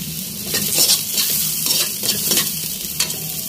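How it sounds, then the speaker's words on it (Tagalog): Garlic, onion and ginger sautéing in a pan for chicken tinola, a steady loud sizzle with repeated scraping stirs of a spatula against the pan, close and continuous. "Ayan, gisa na ako ng bawang, sibuyas, saka luya."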